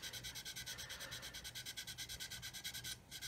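A sanding stick is rubbed briskly back and forth on denim jeans to clear it during scale-model building, making quick, even scratchy strokes, soft and close, alone.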